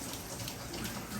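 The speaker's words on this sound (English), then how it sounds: "Finally getting some rain, y'all." Steady rain falling in San Diego, a dense continuous patter with no pauses, even and fairly close, heard alone without any voices.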